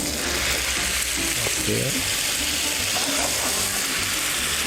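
Fish broth poured into a hot pan of frying shrimp, giving a loud, steady, close sizzle with some clinking stirring, and a brief word spoken over it.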